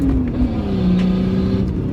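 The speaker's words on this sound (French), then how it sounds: "t'entends le rupteur à l'injection?" Diesel car engine with injection, revving hard against the rev limiter, a loud, close, continuous buzzing drone with a slightly wavering pitch over two seconds.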